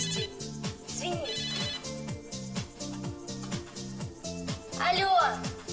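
An incoming call sets a phone ringtone going, a loud repeating melodic pattern that plays steadily throughout, with a short burst of other sound near the end.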